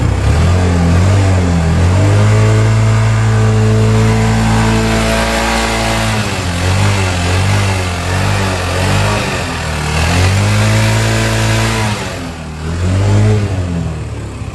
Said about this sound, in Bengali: এই গাড়িটির ইঞ্জিন সাউন্ড কেমন আমি একটু আপনাদেরকে ইঞ্জিন সাউন্ড শুনে দিই